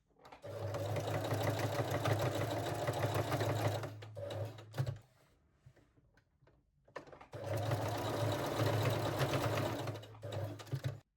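A domestic sewing machine runs a straight stitch to lock seams on lace-back Brazilian panties, sewing in two steady whirring bursts of about four seconds each, split by a short pause with faint handling noise.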